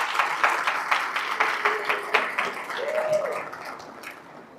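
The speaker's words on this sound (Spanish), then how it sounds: "Si le va a dar el aplauso, déselo bueno en esta mañana" Congregation at a church leadership summit claps for several seconds, a moderately loud patter with a few brief voices and tones rising over it before fading.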